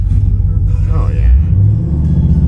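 A 2004 Pontiac GTO with a 5.7L LS1 V8 rumbles loud and close while doing reverse burnouts, its engine revving and surging under a voice talking.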